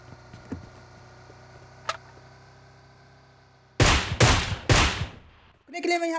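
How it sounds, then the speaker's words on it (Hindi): Gunfire in the battle-royale game PUBG Mobile: a few quiet distant pops first, then three loud, close bursts of rapid shots, each ringing out briefly, and a final short burst at the end. "रुकने के लिए मैं यहाँ पे थोड़ा बहुत फायर करता था, लेकिन वो रुकते नहीं हैं।"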